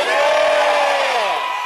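A stadium crowd at a Korean baseball game roars a Kiwoom Heroes cheer together, a loud, sustained chorus of massed voices that swells and then tails off slightly toward the end.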